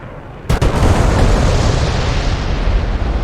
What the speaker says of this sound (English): Let's go ahead and watch those bombs go in.